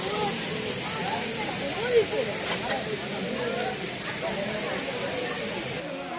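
A water fountain at the Mahera zamindar house on Eid day, a continuous hissing splash of falling water with a crowd of visitors chattering around it.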